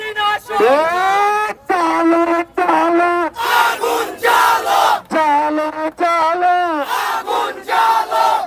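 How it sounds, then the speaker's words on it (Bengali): Dense protest crowd on a blockade street chanting slogans in loud, rhythmic bursts, many voices rising and falling together in repeated call-style phrases with brief gaps between. "সবাই স্লোগান দিবেন"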